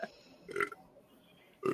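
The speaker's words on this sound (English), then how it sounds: "Like laugh and then burp." A person lets out a short, throaty burp, followed by another brief vocal burst a moment later.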